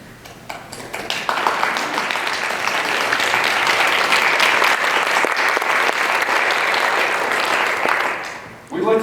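Sustained audience applause for stage-performance attendees honored as military veterans, a dense wash of many hands clapping at steady loudness for about eight seconds before tapering near the end.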